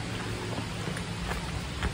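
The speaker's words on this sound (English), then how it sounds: "day has got to involve a little bit of rain." Steady rain falls outdoors, a dense hiss of drops hitting surfaces with a few sharper patters, moderately loud and continuous with no talk.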